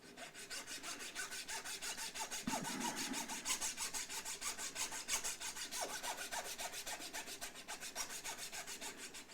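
Wood being carved away in chunks from a Fender Mexican-made Stratocaster guitar body, a steady close scraping and rasping with quick repeated strokes and a brief heavier knock early on.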